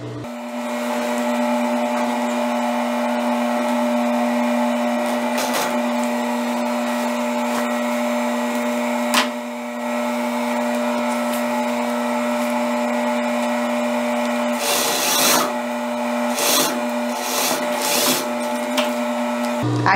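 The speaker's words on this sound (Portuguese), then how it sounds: "aqui eu vou passar uma costura bem na bordinha só para fixar ele aqui na peça." A sewing machine runs steadily, stitching a zipper onto a midi circle skirt, with a constant whirring hum and a few short bursts of faster stitching near the end; no voices.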